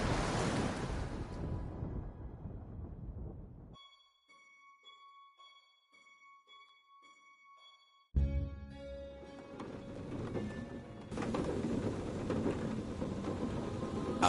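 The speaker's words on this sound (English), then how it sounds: "Outside, the storm raged." A raging storm in the game A Fisherman's Tale: loud surging waves and wind, a quiet pause with tonal chiming, then a sudden thunderous crash and returning roaring surf and rain.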